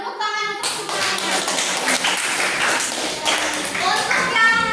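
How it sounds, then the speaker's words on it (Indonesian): Classroom applause from students, dense rapid clapping lasting several seconds that starts abruptly after a short spoken phrase, with children's voices mixed in. "Tepuk tangan untuk semuanya."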